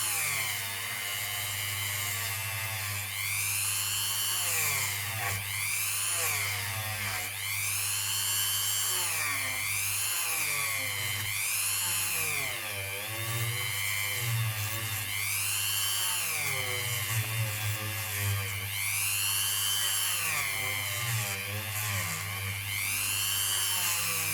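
A rotary tool tipped with quad-zero steel wool polishes a ring made from a Barbados 25-cent coin, giving a steady, loud high-pitched whine that rises and falls in repeated waves as the pressure changes, with no talk.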